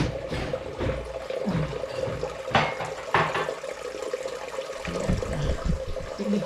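Tap water runs steadily while dishes are washed, with intermittent clinks and clatters of plates and utensils close by.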